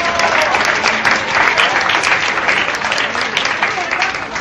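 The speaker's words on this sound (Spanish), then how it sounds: "Un aplauso para Víctor Rivanco y Jacob Vilara." Crowd applause at an amateur boxing event after a bout, loud dense clapping that fills the arena evenly, with voices faintly in the mix.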